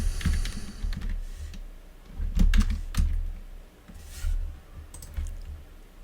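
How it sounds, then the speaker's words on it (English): Quick, irregular clatter of typing on a computer keyboard, close and clear, in bursts with short pauses, with no voices. "I just started typing"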